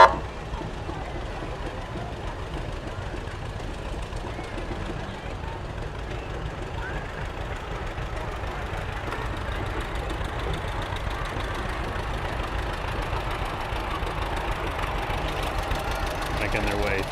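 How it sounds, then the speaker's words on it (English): A John Deere tractor engine idles and chugs steadily at a small-town festival parade, a continuous low knocking rumble at moderate distance lasting the whole time, with crowd talk faintly underneath. "got a John Deere making its way up Pennsylvania Avenue here."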